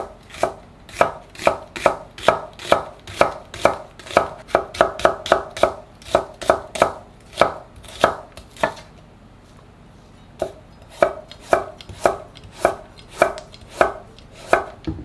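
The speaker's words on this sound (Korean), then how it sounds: "양파 반 개도 곱게 채 썰어 주세요." Half an onion being finely julienned with a knife on a cutting board: brisk, evenly spaced chops close up, a short pause near the middle, then the steady rhythm resumes.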